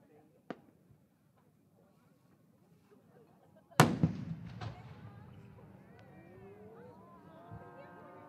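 Fireworks at the 2024 Omagari fireworks festival in Japan, presented by Ina Kako Horiuchi fireworks company: a small distant pop, a quiet pause, then a sharp loud burst followed by trailing crackles and whistling sparkles.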